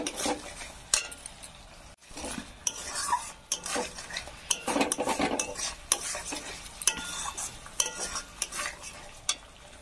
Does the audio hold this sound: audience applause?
no